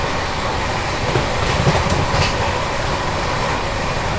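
Vikramshila Express train running at about 130 km/h, a steady loud roar of wheels and carriages on the rails with faint clickety-clack, heard from inside with no talk.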